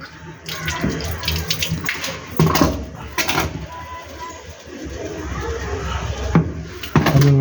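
Water splashes and pours steadily into a water can being cleaned, with clattering and handling noises mixed in, fairly close and moderately loud.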